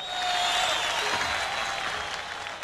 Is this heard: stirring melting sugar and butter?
no